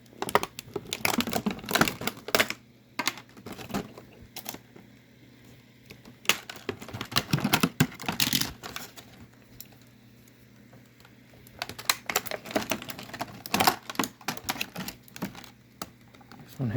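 Plastic blister packaging from a Monsterpocalypse toy box set being cut and crinkled to free the figures, giving bursts of crackling, snipping and rustling with quiet pauses between, close and alone.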